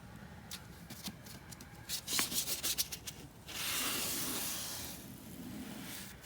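A putty knife scrapes and spreads joint compound over a drywall patch, first in short rubbing strokes, then in a longer continuous smooth swipe, close and fairly quiet.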